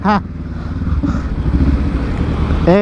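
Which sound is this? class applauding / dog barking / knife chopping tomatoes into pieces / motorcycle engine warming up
motorcycle engine warming up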